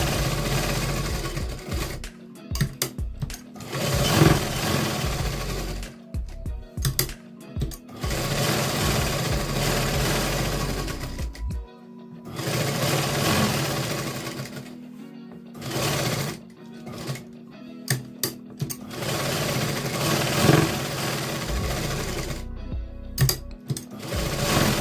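A sewing machine runs in loud bursts, stitching a katori blouse to its lining with a narrow margin under half an inch, with short pauses between the runs and no talk.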